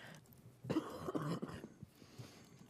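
A burst of coughing at a council meeting, close and fairly loud, a few hacking coughs in quick succession followed by quieter throat noises.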